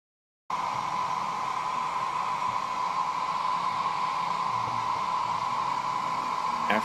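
A steady, continuous whoosh of a hair dryer blowing close by to heat carbon fiber decals, starting abruptly after a brief silence and holding an even tone throughout.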